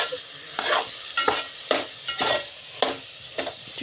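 Soya chunks cooking in a pan for pulao, with a soft sizzle and about six distinct, rhythmic stirring scrapes close by and no voices.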